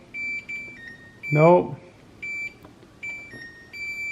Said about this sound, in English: So this is going to beep like this for 30 minutes.